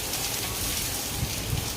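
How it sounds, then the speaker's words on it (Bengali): Rain falls in a steady, even hiss with soft patter, fairly quiet and continuous throughout, with no voices. "এই যে দেখো কীরকম বৃষ্টি হচ্ছে"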